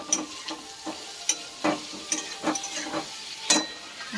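Potatoes fry in a pan while a spatula stirs them, producing a soft sizzle under repeated scraping strokes that come roughly every half second.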